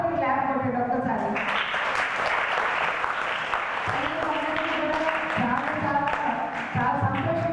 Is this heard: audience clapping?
yes